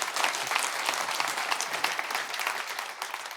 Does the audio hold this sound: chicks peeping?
no